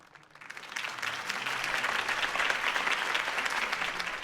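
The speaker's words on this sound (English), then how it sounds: "could have heard that applause" Crowd applause at a political campaign speech in Batman: The Telltale Series, swelling from quiet to a steady, dense clapping that holds loud for several seconds.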